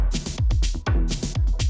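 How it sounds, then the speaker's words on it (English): Programmed electronic drum pattern, booming sub-heavy kicks alternating with bright, splashy snare or clap hits in a quick, punchy rhythm, loud and close, no talking. "So I decided I would take some inspiration from that and program some drums that ended up sounding a bit like this."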